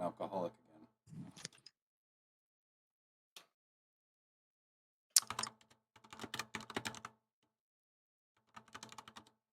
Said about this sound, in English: Pyro furiously typing something to someone.